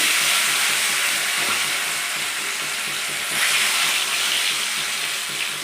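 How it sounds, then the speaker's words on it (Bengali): Fish pieces rubbed with salt and turmeric fry in hot oil in a kadai, producing a loud, dense, continuous hiss that swells briefly midway. "এই নুন হলুদ মাখানো মাছগুলো আমি এরপরে ভেজে নেব"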